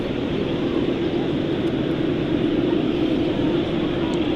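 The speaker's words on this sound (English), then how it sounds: "There goes the Etihad 787-9." An Etihad Boeing 787-9 at Manchester Airport produces a steady, broad jet roar that holds at an even loudness throughout, with no clear rise or fade.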